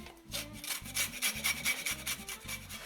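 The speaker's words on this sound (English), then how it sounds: "give your lemons a wash and then get the zest off them" Lemons being zested on a grater make close, rhythmic rasping strokes, about ten scrapes in quick succession, each a dry scratchy burst against the metal, with no talk.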